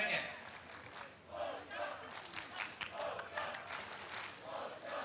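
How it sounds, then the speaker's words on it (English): Volleyball crowd at a beach volleyball Grand Slam in Olsztyn chanting "Polska" in rhythmic waves, a rolling chant with some clapping heard from a distance across the arena. "Crowd again cheering Polska, Polska."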